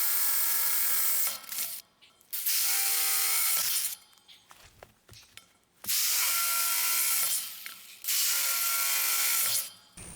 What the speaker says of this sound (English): So we'll just drill some new holes and get this side panel in.